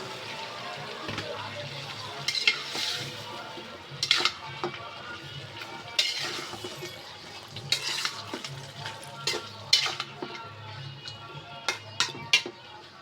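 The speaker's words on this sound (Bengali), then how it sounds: "আমি এখন তরকারি ভালো করে কষিয়ে নেব ততক্ষণ আমার সঙ্গে থাকবে টমেটো আর কিছুটা মটরশুঁটি দিয়ে দিলাম" A fish curry of chapila fish with potato, tomato and peas sautés in a pan, a moderate sizzle under irregular spatula scrapes and knocks against the metal, close and fairly loud, with no talking.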